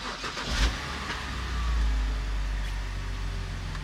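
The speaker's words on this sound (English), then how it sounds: "I'll start the car and we'll test if the thing turns on." A BMW car engine starts with a short low crank and catch, then settles into a steady idle rumble close by. No speech.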